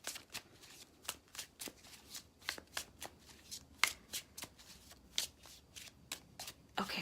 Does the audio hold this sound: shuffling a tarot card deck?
yes